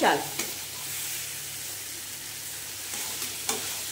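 Washed gobindobhog rice being stirred and fried in a pan for a pumpkin rice dish: a soft, steady sizzle with occasional scraping clicks of the spoon, fairly quiet and close.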